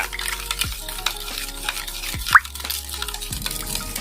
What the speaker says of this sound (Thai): น้ำกะทิลงไปเลยค่ะ เกลือเกลือไปนิดนึงค่ะ ใส่น้ำตาลค่ะ ผสมให้เข้ากัน